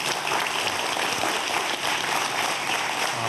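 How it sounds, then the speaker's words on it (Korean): Steady, dense applause from an audience at a televised Korean physics lecture on the Standard Model and the Higgs boson, filling the whole moment evenly with no pauses and no speech over it. "여러분 큰 박수 한번 부탁드릴게요"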